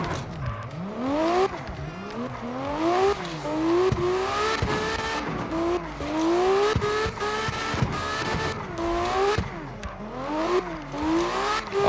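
A car in the racing video game CarX drives in first gear, its engine whining and revving up and down repeatedly with tire squeals, loud and continuous with no talk.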